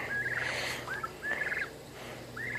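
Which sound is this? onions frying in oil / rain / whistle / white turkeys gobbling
white turkeys gobbling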